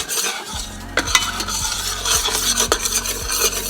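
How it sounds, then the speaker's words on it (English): A gumbo roux is stirred steadily in a pot, the spoon scraping the bottom in a regular rhythm of strokes about every half second over a soft sizzle, close and clear with no voices. "Make sure you keep mixing."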